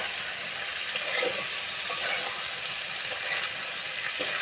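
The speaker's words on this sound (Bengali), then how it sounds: "আলু দিয়ে ভালো করে কষিয়ে নেবো" Potatoes and chickpeas fry in a pan for a vegetarian chickpea ghugni with green chillies, giving a steady close sizzle with a few soft stirring scrapes and no talking.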